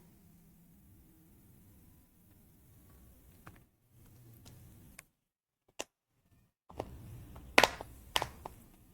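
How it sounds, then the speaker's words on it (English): Replacement ear pads for Sony WH-1000XM4 headphones are pressed on, their hinges locking in with a few sharp, close plastic clicks near the end, the loudest pair tightly spaced, after quiet handling and brief silences. "That is the noise of hinges locking itself"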